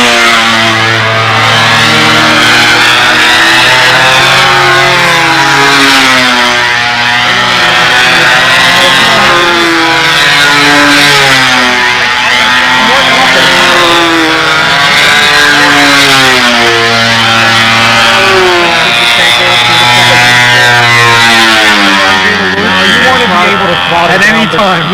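A Scarinzy Z Plane model airplane engine buzzes loudly and continuously in flight, its pitch rising and falling as the throttle changes, with voices talking over it.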